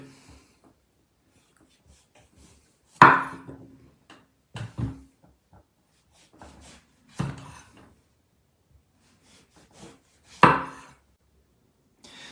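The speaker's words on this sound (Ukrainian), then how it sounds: "Тож, давайте почнемо, друзі, нарізати." Zucchini being cut on a board into roughly one-centimetre pieces for vegetable burgers, heard as a few sparse, separate knife chops spaced seconds apart in a quiet kitchen, with no talking.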